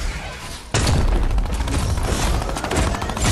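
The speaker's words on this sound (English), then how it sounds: "They're all shooting at me." Video game gunfire from several players shooting at once, a sudden loud burst of rapid shots that starts abruptly after a quieter moment and keeps crackling densely to the end.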